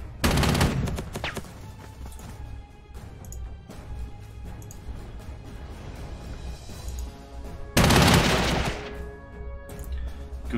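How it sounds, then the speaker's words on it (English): An anti-aircraft gun at an airport fires in the Panzer Corps 2 war game. Two loud bursts of rapid gunfire hit near the start and again near the end, with quieter crackling and rumble between them. "That is an anti-aircraft gun in the airport there."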